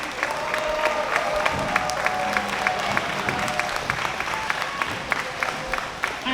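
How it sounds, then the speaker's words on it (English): Audience at a school Emancipation Day program on St Eustatius, standing and applauding: sustained crowd clapping with individual sharp claps standing out and faint cheers mixed in, continuous throughout. "Please stand to your feet and give him a round of applause."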